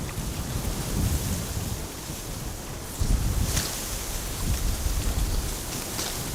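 Strong storm wind buffets the microphone at Amsterdam Schiphol Airport during Storm Bert, a continuous loud roaring rush with gusts swelling around the midpoint, steady and unbroken with no talk.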